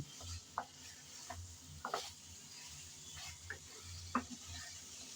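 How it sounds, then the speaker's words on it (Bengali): Small local potatoes fry quietly in a pan with a soft, faint sizzle, broken by several scraping stirs of a spoon at irregular intervals. "আলুটা আমি আগে দিয়ে দিচ্ছি ভালোভাবে নরম হয়ে যাওয়ার জন্য"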